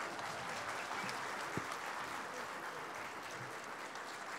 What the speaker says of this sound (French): vous applaudissez parce qu'on parle de vous